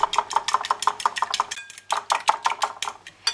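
Two eggs with salt and pepper whisked briskly in a bowl, a fast run of metallic clinks against the dish, a brief pause, then the steady rhythmic beating resumes, close and alone.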